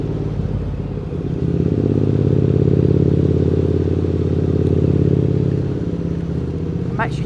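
A Triumph Street Twin motorcycle on a Sunday ride, its engine giving a loud, steady low throbbing drone that swells slightly mid-ride, with wind rush and a brief higher sweep near the end.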